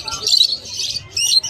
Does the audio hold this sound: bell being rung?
no